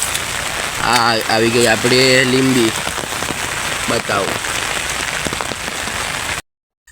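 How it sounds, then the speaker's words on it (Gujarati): Heavy monsoon rain pours steadily as broadband hiss during a walk under an umbrella to buy lemons, with someone talking briefly over it near the start. "છત્રી લઈને જાઉં છું કેમ કે વરસાદ વધારે ચાલુ થઈ ગયો"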